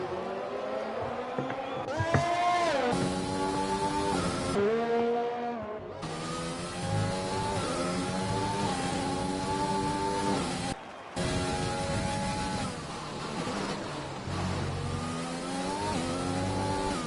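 A race car in a racing video game screams along at high revs, with engine tones rising and falling through gear changes, brief tire squeal, and near-constant loud engine sound with a couple of abrupt cuts.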